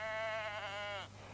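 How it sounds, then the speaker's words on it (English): A Romney Marsh sheep, the long-wool Kentish breed, gives a single drawn-out nasal bleat lasting about a second over a low steady hum, then cuts off, leaving a quiet outdoor background. "the Romney Marsh sheep are the main Kentish breed"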